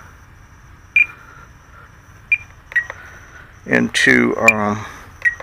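An RC transmitter timer for an E-Flite 1.2m Corsair gives a few short, sharp electronic beeps as it is set, spaced apart, with a voice speaking briefly between them.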